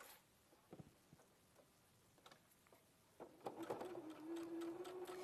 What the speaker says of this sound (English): And then I'm going to sew this one down.